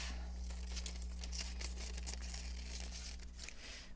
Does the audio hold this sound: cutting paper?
yes